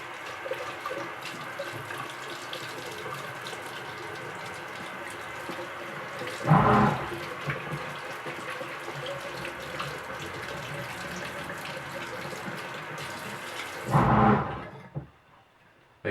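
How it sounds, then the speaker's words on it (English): Water runs steadily from a sink tap while utensils are washed, with two short clattering bursts from the utensils partway through, before the flow cuts off near the end. "So, wash out your utensils. Do not let them cake up or dry up. I'm fortunate to have a sink right here."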